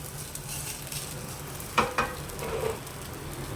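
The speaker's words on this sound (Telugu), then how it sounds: "తాలింపు పెట్టుకోండి" Tempering for millet dosa sizzles in hot oil, a continuous frying hiss broken by a couple of sharp crackling pops midway, close and moderately loud with no speech.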